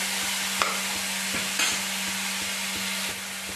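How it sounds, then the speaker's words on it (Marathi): Chopped onion sizzling and being stirred in a pan while browning for a bamboo shoot curry, a steady close hiss with occasional scraping clicks, no talking. "कांदा लाल करून घ्यायचा."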